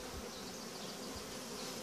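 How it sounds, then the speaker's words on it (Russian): Honeybees hum steadily around a beehive frame during queen introduction, a close, continuous buzzing drone with no voices. "Пчелки спокойно себя ведут."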